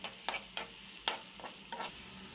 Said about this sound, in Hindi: और प्याज को ब्राउन कर लेंगे। ब्राउन होने तक हम इसको फ्राई करेंगे।